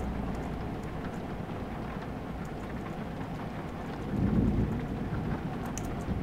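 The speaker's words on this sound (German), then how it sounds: "Nice, das erste Mal Gewitter." In a driving video game set on steep mountain roads in Romania, a thunderstorm brings steady hissing rain with a low rumble of thunder swelling partway through, all at an even, moderate level with no talking.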